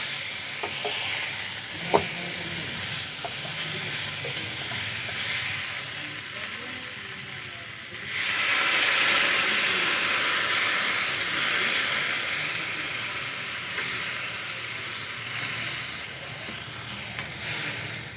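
Spiced fish sizzles steadily in a pan, then water hits it and the hiss swells into a louder, broad steamy crackle that holds for several seconds.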